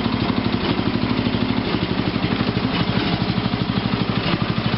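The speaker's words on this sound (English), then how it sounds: "That's that low idle, and it's back, and it has a lean misfire" A 1987 rally tractor engine at low idle with a lean misfire, a loud close-up rhythmic chugging with uneven pulses and a steady low rumble throughout.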